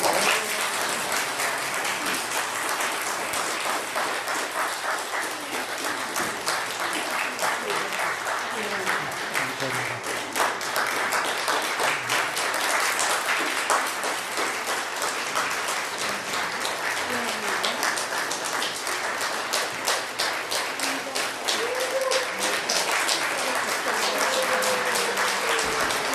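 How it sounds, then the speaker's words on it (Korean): A church congregation applauds during a Sunday worship service welcoming newcomers, sustained dense clapping that runs steadily throughout with voices faintly underneath. "박수 해주세요."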